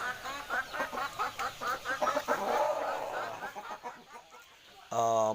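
A large rooster, more than two kilos, clucks in repeated short bursts on an early-morning upland farm, and a louder crow-like call comes near the end.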